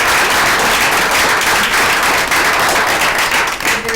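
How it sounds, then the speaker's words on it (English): Audience at a county board of education meeting breaking into sustained applause, a dense, loud wash of many hands clapping steadily for several seconds before thinning slightly at the end, no talking over it. "she deserves a round of applause"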